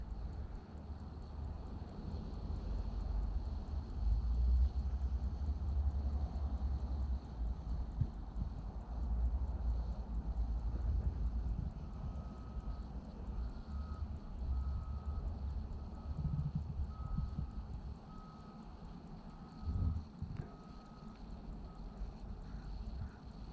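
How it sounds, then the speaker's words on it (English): Quiet sand dunes sit beside a distant highway, with a low, faint rumble of far-off traffic and soft wind, steady and subdued throughout with a few small bumps, no one speaking. "Just take a listen to how quiet it is, though, even though there's a highway right there."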